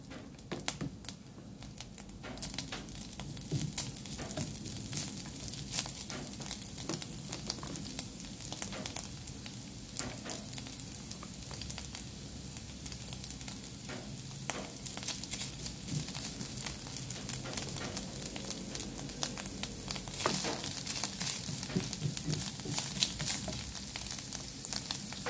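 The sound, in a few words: sautéing ground bamboo shoots in a hot pan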